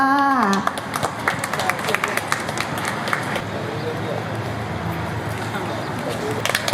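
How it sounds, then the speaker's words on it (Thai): A short voice opens, then a crowd breaks into scattered clapping at the ribbon-cutting opening of an eating contest at a Bang Pa-in branch, with individual claps standing out over a busy background murmur. "ขอเสียงปรบมือค่ะ"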